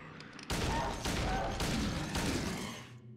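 A run of loud pistol shots fired at a monster in Silent Hill 2, three or four close, heavy reports in quick succession that ring out and fade at the end.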